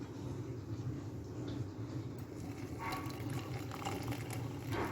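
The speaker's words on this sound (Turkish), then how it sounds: "Önce böyle bir süzgece çayımızı kolayalım." Ginger honey tea poured through a strainer, a steady close liquid trickle and splash running continuously, with faint clinks near the end.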